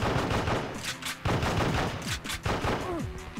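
Rapid gatling gun fire in the PS2 on-rails shooter Endgame, a loud continuous clatter of shots with sweeping electronic tones mixed in, lasting a few seconds.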